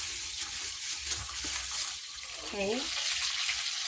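Chicken fries in a lidded pan, a steady close hiss and crackle of hot oil that runs throughout, with a brief spoken word and faint kitchen clatter over it.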